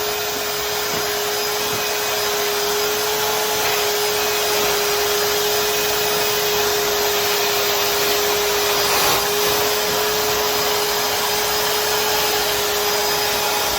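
A 2024 Numatic George vacuum cleaner with a spot-clean sprayer attachment cleaning a rug, running as a loud, steady motor drone with a constant whine and no breaks.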